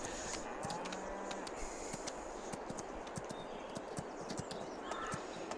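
Horse hooves clip-clop steadily in Farming Simulator 22 on the Alma, Missouri farm map while a horse is ridden. The even, rhythmic hoof beats play over a constant farm ambience, with cattle lowing faintly in the background.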